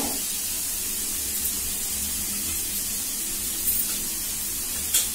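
Kori Manchurian balls frying in hot oil, a continuous bright hiss and sizzle held at a steady level, with a couple of small pops and clinks near the end and no talking.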